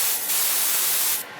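An airbrush sprays liquid decal film onto a 1:72 scale Italeri SR-71 Blackbird plastic model kit, a loud close hiss of air and atomized liquid lasting about a second before cutting off.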